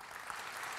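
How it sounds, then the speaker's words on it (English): Audience applause at a technology council event in Pittsburgh, a steady, dense wash of clapping from a crowd, continuous and fairly distant throughout. "You're clapping for yourself."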